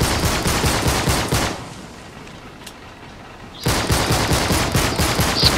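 Rapid automatic gunfire in Uncharted 3: Drake's Deception, loud, dense bursts that stop for about two seconds and then resume, with no talk.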